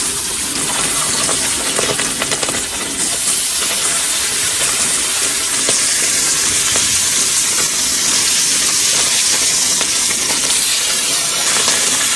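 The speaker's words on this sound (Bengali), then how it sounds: "এবার ইলিশ মাছগুলো ভাজবো" Hilsa fish frying in hot oil in a home kitchen, a loud, continuous close-up sizzle and hiss with crackling spatters throughout.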